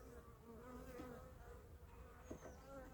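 Honey bees from an open hive hum in a dense, continuous buzz close up during an inspection, with a few individual bees droning louder as they pass, and no voices.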